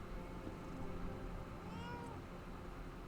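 A cat meows in the video game Lies of P, a few soft rising mewing calls near the middle, set against a steady low game ambience and music bed.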